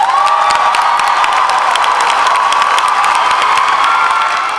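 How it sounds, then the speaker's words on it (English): A graduation ceremony crowd breaks into loud, sustained applause and cheering with whoops, a steady dense roar holding for several seconds and only beginning to ease at the end. "The crowd erupted in applause and jumped to their feet"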